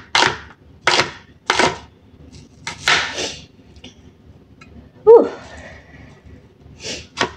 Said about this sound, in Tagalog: naggagayak tayo ng sibuyas dahil tapos na natin bawang